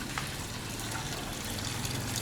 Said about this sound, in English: Oh, and there's the waterfall going